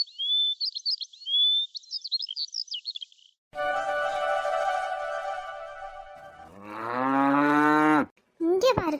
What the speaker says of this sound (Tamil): என்ன மாடு கத்திக்கிட்டே கிடக்கேன்னு பார்த்தா